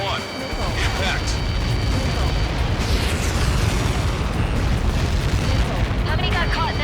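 Massive missile impact in the aerial combat video game Ace Combat 7, a long sustained roaring rumble filling the whole span with crackling debris bursts, heavy and loud, with radio-style voices talking over it.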